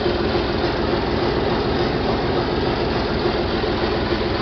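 A John Deere 4020 tractor engine runs at about 1,000 RPM and sounds a bit smoky, a steady, loud, low diesel rumble that holds unchanged and close throughout with no talking.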